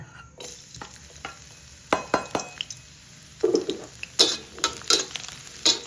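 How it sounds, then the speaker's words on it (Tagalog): Garlic drops into hot oil in a pan for a stir-fried mushroom dish, with a soft sizzle under sharp clinks and scrapes of a utensil stirring against the pan, close up and without speech. "pag mainit na, lagyan natin ito ng garlic"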